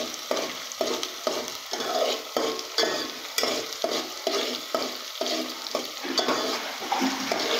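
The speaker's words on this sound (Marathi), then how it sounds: "थोडंसं आपण त्याला तेलामध्ये हलवून घ्यायचं आहे." Poha stirred and fried in oil in a pan, with a steady sizzle broken by rhythmic scraping strokes of a spoon roughly twice a second, close and clear with no talking.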